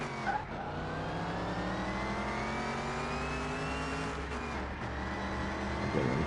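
Race car engine in a PS5 racing video game revving steadily at high pitch, a sustained loud drone that rises slightly, with faint tire noise and no talking.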